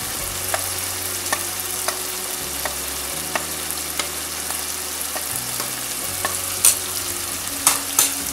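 Spices with red chilli and achari masala roast and sizzle in a pan for a mixed vegetable dish, a constant frying hiss broken by frequent light stirring scrapes and a couple of sharper utensil clinks near the end.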